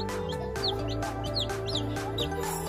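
Backyard chickens cluck repeatedly in short bursts over a dense, steady background, with several birds calling close by.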